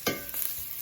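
Onions, garlic and ginger stirred in a hot pan, a quick scrape of the utensil followed by soft sizzling and a second lighter stir, close and clear.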